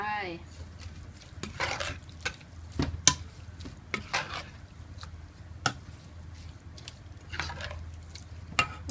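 Larb beef is stirred and dry-roasted in a pan with homemade roasted chili powder, giving repeated scraping strokes over a soft, continuous sizzle.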